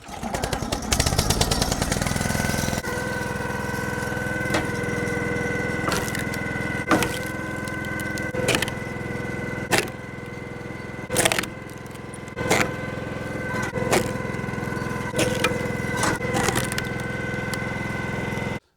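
A gas-engine log splitter idles with a steady harmonic drone while ash firewood rounds crack and splinter in repeated sharp bursts, close and loud, no talk.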